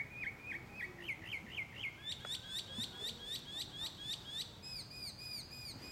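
A mockingbird calls at night in a quick series of sharp, repeated chirps that change pattern partway through, fairly close, over a faint background hum.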